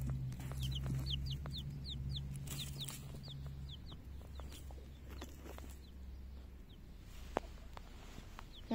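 A hen clucks softly and repeatedly while searching dry soil for earthworms in a quiet outdoor setting, with a low steady hum underneath and an occasional sharp tap.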